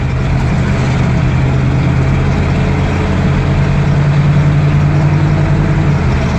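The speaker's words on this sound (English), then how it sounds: "And there goes second to third at 35 miles an hour" A 1976 GMC Jimmy's engine drones loud and steady while driving, a dense low rumble with a slight pitch shift partway through as it moves up through the gears, and no voices.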